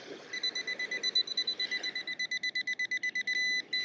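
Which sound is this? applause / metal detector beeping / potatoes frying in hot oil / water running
metal detector beeping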